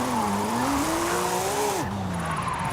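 Porsche drifting in Forza Horizon 5 with tires sliding, a loud close squeal with a long wavering tone that sweeps upward and drops sharply near the end, over steady engine roar, nothing spoken.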